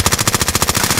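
Rapid automatic gunfire from a Call of Duty: Modern Warfare match, a loud, steady burst of roughly a dozen evenly spaced shots filling the whole moment with no talk over it.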